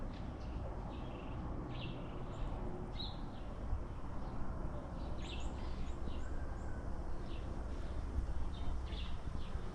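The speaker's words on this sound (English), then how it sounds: "Birds are chirping" Birds chirp in the early morning in the front yard of a guest house in Zambia, with faint, scattered short calls over a steady outdoor hiss.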